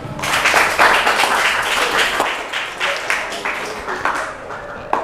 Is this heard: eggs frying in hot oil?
no